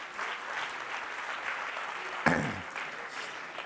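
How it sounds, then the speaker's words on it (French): Steady applause from a conference audience welcoming the president of Air Caraïbes and French Blue to a round table, an even wash of clapping with a brief louder thump partway through. "Sous vos applaudissements."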